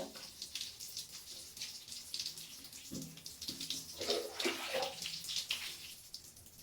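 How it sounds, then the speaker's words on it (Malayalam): Water is poured over hair while rinsing, splashing continuously for the full length, a close, steady rushing with small irregular splatters and no talking. "ഈ വെള്ളം ഒഴിക്കുമ്പോഴും എല്ലാ ഇടവും ഇതെത്തണം"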